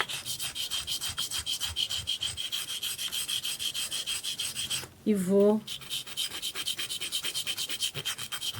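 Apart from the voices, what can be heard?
hand sanding a mosaic piece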